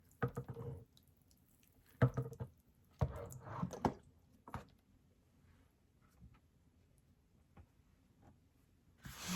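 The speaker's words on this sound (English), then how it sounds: "So I'll go ahead and water it in." Water is poured into a potted houseplant in a few short bursts, soft splashes and trickles with drips and small clicks between quiet pauses.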